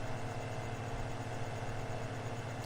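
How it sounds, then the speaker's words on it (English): Tractor engine in Farming Simulator 15 running at a steady idle, a constant low rumble with a faint mechanical hum, unchanging and alone. "I like the noise of this tractor. The sound that it makes is good."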